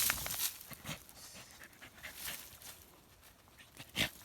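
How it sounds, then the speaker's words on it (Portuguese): A hunting dog pants rapidly and close by in quick breathy bursts, with a brief louder huff near the end; no talking. "Aí o Bruno, a gente manda o cachorro, olha o cachorrão."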